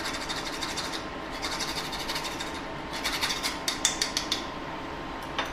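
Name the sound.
grating nutmeg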